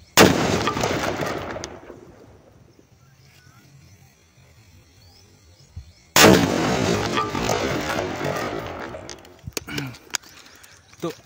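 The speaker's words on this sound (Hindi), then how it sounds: "तो अभी का धमाका बहुत ही ज़्यादा हुआ" A sutli firecracker, set off for Diwali with clay tile pieces fitted over it, bursts in a sharp, very loud nearby bang that fades into a rumbling tail; after several quiet seconds a second powerful blast rings out and decays.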